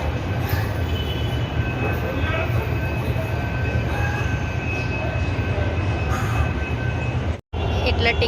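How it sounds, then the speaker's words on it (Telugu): Busy metro station in Mumbai with a steady rumble of train and rail noise, crowd murmur and faint tonal hums throughout, with voices in the background and a brief dropout near the end. "ఇది మెట్రో స్టేషన్."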